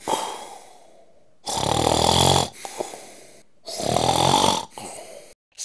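Loud, rasping snores come in two long drawn breaths separated by quiet pauses, close and heavy with a wheezy edge.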